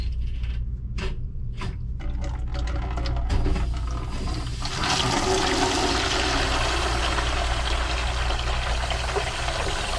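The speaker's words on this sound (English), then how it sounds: "And right here I got some hoses. Let's go ahead and start draining." Water drains under pressure through hoses into a small bucket during a rebuild of a water-source refrigeration condenser supply; a few clicks come first, then a steady rushing hiss of flowing water.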